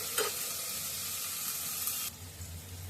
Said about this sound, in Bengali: গাজরগুলো একটু ভাজা ভাজা হোক